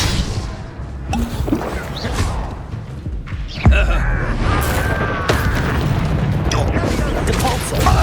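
Spell-casting combat in a Harry Potter wizarding video game, with whooshing magic bursts, a loud boom and crashing impacts under a character's shouted incantations.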